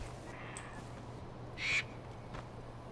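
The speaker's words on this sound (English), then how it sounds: "Is that a mean bird?" A harsh crow-like caw rings out once in Far Cry 4's wilderness, a short, clear call over a steady low hum and faint background game ambience.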